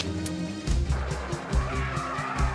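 A Subaru driven hard on a close-quarters rally test course: a loud, close engine roar with surging revs and gravelly skidding tire noise, pulsing in repeated bursts throughout, with no voices.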